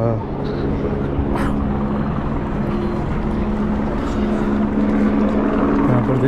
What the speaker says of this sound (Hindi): अभी तक ये हेलीकॉप्टर उड़ रहे हैं यहाँ पर